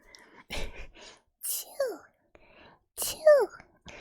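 A close whispered "chew" mimicking a mouse squeak or a kiss, voiced twice as sharp breathy bursts with short squeaky tails, surrounded by soft whispering.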